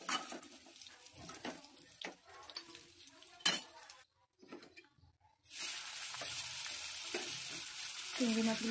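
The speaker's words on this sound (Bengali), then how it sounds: "চিংড়ি মাছগুলো আমি ভাজা করে নিচ্ছি।" About 300 grams of prawns hit hot oil in a pan after fried potatoes, bursting into a loud, steady sizzle after clinks of utensils and pans and a brief quiet.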